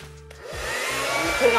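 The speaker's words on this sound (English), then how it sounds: "got the blow dryer" A hair dryer on the cool setting whooshes on and runs steadily and loudly, a continuous airy roar close by.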